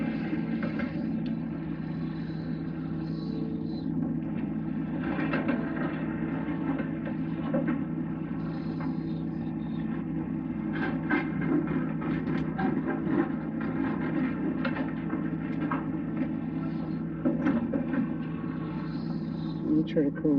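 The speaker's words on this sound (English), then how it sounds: "sorry for the tractor noise" Steady low engine rumble from a tractor and construction machinery working nearby during a metal detecting outing in Utah, a continuous drone running the whole time with faint clinks and rustles on top.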